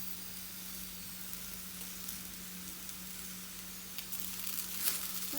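Okra (bhindi) stir-frying in coconut oil gives a steady, even sizzle that holds throughout, with a faint clink near the end.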